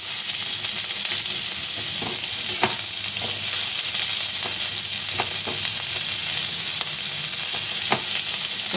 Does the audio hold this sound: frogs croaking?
no